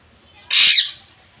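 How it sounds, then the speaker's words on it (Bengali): A pet myna bird gives a single harsh, loud screech lasting about half a second, close by, against a quiet room background. "ময়না চিৎকার করিস না"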